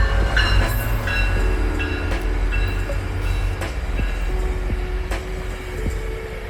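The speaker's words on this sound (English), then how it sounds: "that's a Kitchener Line train going by" A short Kitchener Line commuter train passes along the West Toronto Railpath, a steady loud rail rumble with wheel clatter and faint high squeals throughout, no voices.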